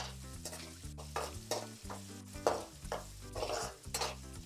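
Eggs sizzling in a pan for egg pulao while a spatula stirs and scrapes, producing rhythmic metallic scrapes over a soft frying hiss, close but quiet with no speech.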